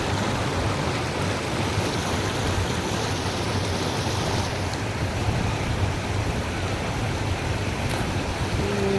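Continuous rushing water, a dense broadband roar that stays steady throughout, like a flowing river heard up close with no voices.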